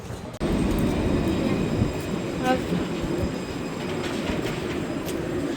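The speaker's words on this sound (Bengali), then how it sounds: "এটা ছোট্ট একটা ট্রেন।" A small train rumbles steadily nearby, a loud continuous roar of wheels on rails with a faint whine over it.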